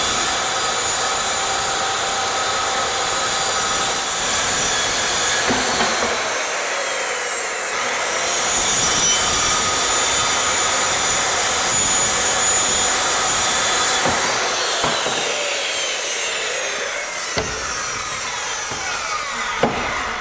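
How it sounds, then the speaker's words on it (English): A power saw cuts steadily through a countertop opening for a built-in stove top, loud and close with a continuous high whine and rasp for about twenty seconds, its pitch shifting slightly as the blade moves. "Now I'm going to take my saw and I'm going to carefully cut this"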